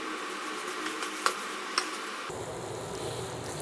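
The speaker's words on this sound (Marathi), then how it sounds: "आता सर्वात शेवटी आपण ह्याच्यामध्ये घालणार आहोत बारीक चिरलेली कोथिंबीर एकदा मिक्स करून घेऊयात" Finely chopped coriander being mixed into sprouted matki usal in a pan, a soft sizzle with a couple of light spoon taps before the sound shifts to a duller, lower bubbling hiss.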